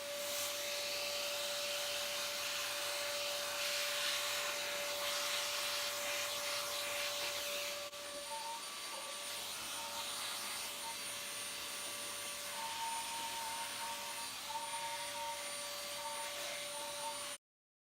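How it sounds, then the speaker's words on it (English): A vacuum cleaner hoovers out a Rofin desktop laser machine, giving a loud, continuous roaring suction that shifts slightly in tone partway through as the nozzle moves. No one speaks. "right, we're going to start hoovering."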